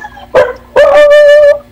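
Near and loud, a dog gives one sharp bark and then a longer, drawn-out, whining bark that fades away.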